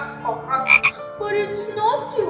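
A frog croaks in a story about polliwogs and minnows, giving a few gargling, throaty calls with a brief bright squeak partway through; it could be a voice imitating the frog.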